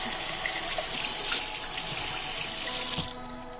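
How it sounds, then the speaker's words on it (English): Water runs steadily from a sink faucet as a cup is emptied and rinsed, a close, continuous splashing stream that cuts off abruptly near the end. "So I'm just gonna dump that out and rinse my cup."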